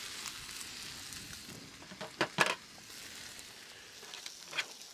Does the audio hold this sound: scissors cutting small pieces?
no